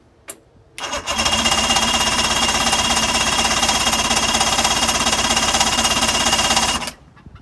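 A 2005 Mercury 115 two-stroke outboard on a 17-foot Mako center console cranks over without firing, a loud rapid rhythmic chugging of the starter lasting about six seconds before it stops.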